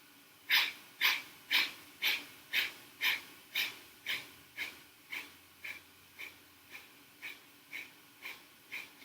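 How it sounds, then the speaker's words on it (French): Kundalini yoga breath of fire: about sixteen sharp, rhythmic nasal exhalations pulse at a steady quick pace, close and loud at first and gradually softening, with no talking. "Maintenant, vous êtes prêts à pratiquer la respiration du feu."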